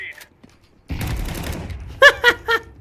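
Video game gunfire from a single full magazine, a dense burst of rapid shots running for about a second followed by three sharper, louder bangs, near and prominent with no talk over it.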